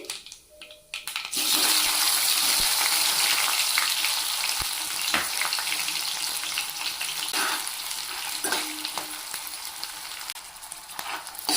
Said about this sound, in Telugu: ఇప్పుడు ఆవాలు జీలకర్ర వేగిందండి